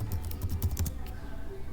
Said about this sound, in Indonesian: Misalnya kita mengetik latihan